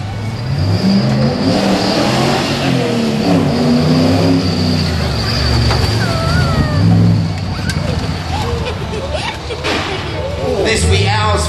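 A Nissan GQ Patrol ute revs hard on an off-road run along a concrete wall, its loud engine climbing and falling in pitch throughout, with a commentator talking over it.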